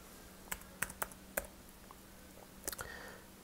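Keys on a computer keyboard tapped while typing code, a few sparse sharp clicks spaced unevenly, close and fairly quiet against a faint steady hum.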